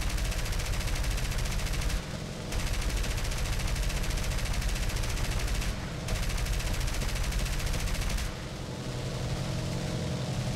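Machine gun fire from a Fairey Swordfish biplane in War Thunder, loud rapid bursts rattling almost continuously with two brief pauses between them, close and dense, with no talking.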